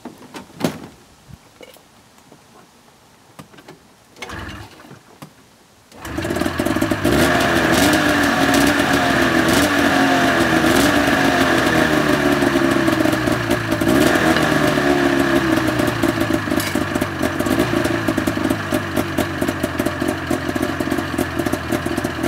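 A snowmobile engine kicks over after a quiet moment of faint handling noises, then settles into a loud, steady close idle with a buzzy rhythmic drone that carries on to the end.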